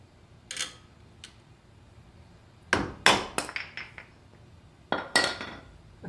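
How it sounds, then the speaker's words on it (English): Metal clinks and knocks from pulling the spindle dust cover off the front hub of a 1999–2004 Ford Mustang, caliper already removed; a few scattered taps early, then a close cluster of sharp clanks near the middle and another near the end. "Now let's take out this spindle cover."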